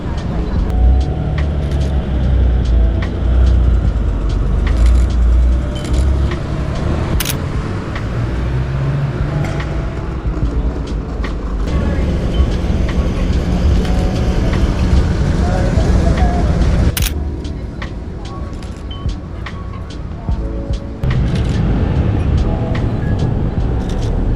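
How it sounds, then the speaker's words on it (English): A Porsche supercar drives past on a busy London street, its engine rising through steady traffic rumble and wind buffeting, loud and close, while someone talks over the passing cars. "There's a beautiful Porsche coming this way."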